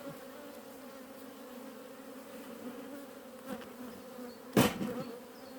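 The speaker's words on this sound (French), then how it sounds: "Et là on est sur un essaim, donc une jeune reine, une nouvelle reine" A newly formed honeybee swarm with a young queen hums in a continuous faint drone near the hive, with a brief sharp scrape or knock near the end.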